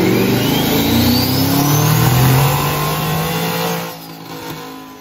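A turbocharged Ford F-150 engine revs hard and loud on a dyno, running wastegate boost only, climbing steadily in pitch, then cuts off and winds down near the end.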